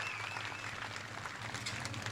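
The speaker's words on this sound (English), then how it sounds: "Give a big round of applause to George Gorham." A crowd applauding at an outdoor ceremony in New Smyrna in honor of George Gorham, dense steady clapping held at an even level throughout.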